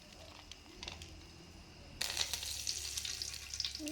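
Garlic kebab pieces fry in hot oil with curry leaves and coriander tossed in, a soft sizzle that abruptly swells into a loud, crackling spatter halfway through and keeps bubbling steadily.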